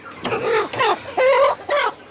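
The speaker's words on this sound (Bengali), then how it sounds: "এই দেখেন টাইগার মুরগি দেখেন" Tiger breed chickens on a poultry farm cluck in four short, close bursts, each a loud nasal call separated by brief pauses, with no talking.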